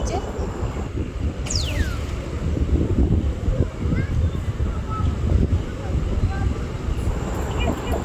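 Strong wind roars steadily across a village rooftop in a continuous broadband rush with gusty swells, near and fairly loud. A brief whistling tone sweeps downward early on.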